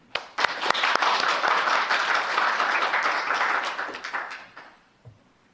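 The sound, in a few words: audience applause welcoming speaker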